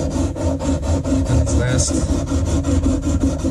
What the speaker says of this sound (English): Basically, you tape off above the 15th fret and just do a little bit of sanding